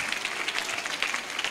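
Children and adults at a Christmas gathering clap together in a brief, continuous burst of applause, dense and steady at moderate loudness.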